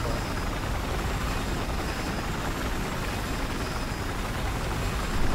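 A helicopter in the video game Battlefield 4 drones steadily with dense, continuous rotor and engine noise throughout, loud and unbroken.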